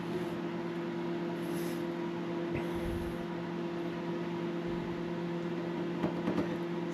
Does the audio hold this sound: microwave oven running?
yes